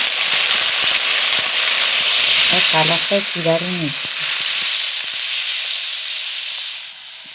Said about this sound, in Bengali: ভালো করে মশলাটা প্রায় কষিয়ে নিয়েছি, মশলা থেকে তেলে ছেড়ে গেছে।